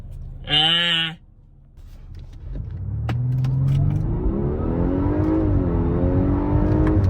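An Audi A5 pulls hard off the line at night, its engine rising in a strong, climbing rev after a brief high-pitched tone at the start, loud and close.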